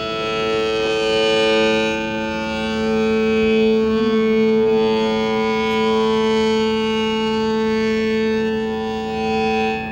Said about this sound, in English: You can hear the sound changing as I'm moving out from the box.